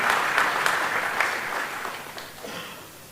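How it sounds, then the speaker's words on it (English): Steady crowd applause at a Nile Day regional event, a broad wash of many hands clapping that stays loud throughout and tapers slightly toward the end. "Let us put a round of applause to His Excellency, the President."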